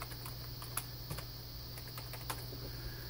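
A password goes in on a computer keyboard in a few quick keystrokes, close and fairly quiet over a low steady hum, with no talking.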